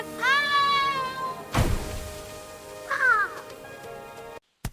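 A cartoon bird gives a loud, close squawk, then a sharp thump and a second, shorter squawk before the sound abruptly cuts out.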